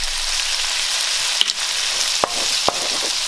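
Eggs fry in a hot pan of pineapple fried rice with a dense, constant sizzle close up, broken by a few sharp taps of a utensil against the pan.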